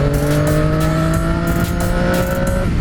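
A 2018 Triumph Street Triple RS 765 motorcycle engine holds a loud, close, sustained rev with a steady buzzing tone that rises slightly before it cuts off near the end.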